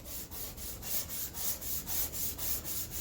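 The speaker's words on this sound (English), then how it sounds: "So we'll continue with our 220 grit." Wood being hand-sanded with 220 grit sandpaper gives a soft, steady rasping with an even back-and-forth rhythm of about three strokes per second, quiet and close, with no voices.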